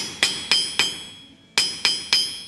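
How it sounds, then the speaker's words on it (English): A blacksmith's hammer strikes steel on an anvil while forging a fireplace rake: three bright ringing blows in an even rhythm, a short pause, then three more, each ringing out clearly with no talk. "The anvil is a hard surface, and so is the face of my hammer."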